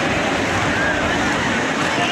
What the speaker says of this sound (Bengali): ঢেউটা হেভি আসছে